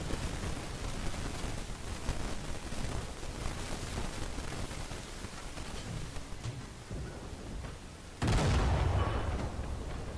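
Tank cannon fire from an SU-100Y in the War Thunder game, with a loud boom bursting in near the end over steady battlefield noise.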